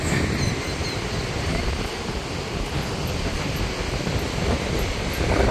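Strong ocean surf near the Cape Byron lighthouse at Byron Bay, New South Wales, a dense, continuous roar of breaking waves with wind buffeting the microphone throughout.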